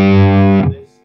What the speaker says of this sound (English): I'm playing a G on my guitar,